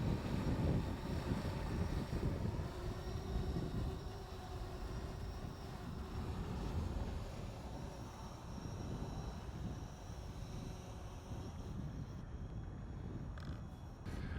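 Yuneec Typhoon H hexacopter drone coming down to land outdoors: a continuous, fairly faint rotor hum mixed with broadband wind-like rush, steady throughout with no talking.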